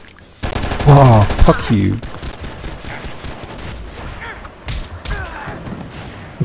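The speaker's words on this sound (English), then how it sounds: "Why is he still shooting at us?" Enemy gunfire in the video game Oni, a loud burst of rapid shots early on followed by scattered quieter shots and game noise, with a player's voice swearing over the top.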